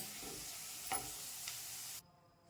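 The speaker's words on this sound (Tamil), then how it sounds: "இந்த அளவுக்கு பிரண்டை வதக்கணும்" Pirandai (adamant creeper) sizzles in hot oil in a pan, with a brief scrape of stirring partway through; the frying noise runs steadily, then drops away abruptly near the end.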